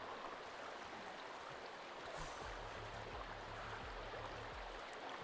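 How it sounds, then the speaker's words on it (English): River in the game Sons of the Forest, water rushing in a steady broadband wash, with a few low pulsing thuds joining in, fairly quiet and without talk. "The water sounds are actually pretty realistic in this."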